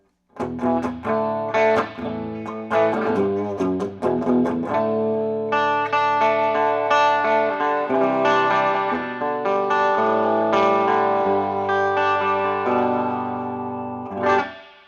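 A 1960s Gibson Hawk electric guitar plays chords and riffs through heavy distortion, loud and close, with sustained ringing notes and an effects-laden tone, no talking.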